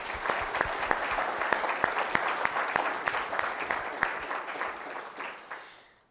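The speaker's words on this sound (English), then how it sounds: "So please join me in giving them a round of applause." Audience applause at an urban planning lecture, a steady wash of many hands clapping with sharp individual claps standing out, holding for several seconds before tapering off to quiet.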